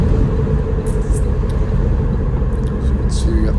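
A 1963 Buick Skylark coupe with power steering drives along, its steady low engine and road rumble filling the clip from start to finish, heard from inside the car.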